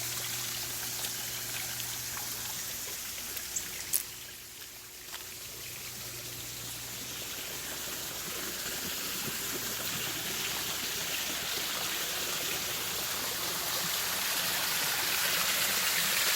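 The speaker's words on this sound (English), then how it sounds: "we have water flowing in at a strong rate right now" Water pours strongly into a koi pond from an automated inflow, a continuous rushing, trickling wash with a faint steady hum beneath it throughout.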